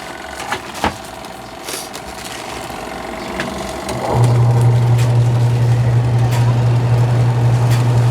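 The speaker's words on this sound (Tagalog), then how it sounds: "Sa dryer, testing natin. Gumagana din." A TCL 10 kg twin tub washing machine's spin dryer starts up partway through. A few light clicks and handling noises come first, then a loud, steady low motor hum runs without a break to the end.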